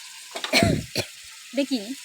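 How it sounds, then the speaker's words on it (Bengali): Onion paste and ginger paste sizzle and crackle in a hot pan for chicken frying, with a brief voice speaking over the frying. "পেঁয়াজটা ভালো মতো কষাবো"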